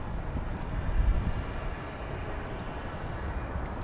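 American Airlines airliner taking off from runway 18 at DFW airport, heard as a steady, fairly faint broadband jet roar with no voices over it.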